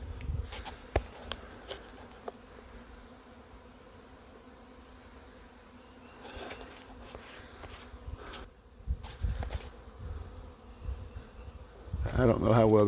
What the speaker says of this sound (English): That's not out of our hive, so that may be a wild swarm